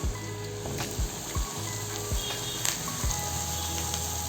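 Masala poori frying in hot oil crackles with a continuous close sizzle and bubbling, with a few low thumps from the pan or ladle and no voices.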